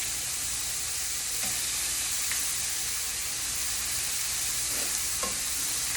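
Chicken fajita strips fry in a hot pan with a steady, close broadband sizzle that runs the whole time, broken by a few faint clicks and pops, with no talking.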